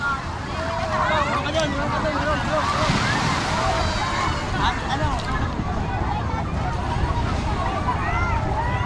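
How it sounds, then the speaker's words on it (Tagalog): Strong surf pounds the shore at Laiya Beach in San Juan, Batangas, a steady loud roar of breaking waves with wind buffeting the microphone and people talking over it. "Sobra kasi ang lakas ng ano hampas ng alon."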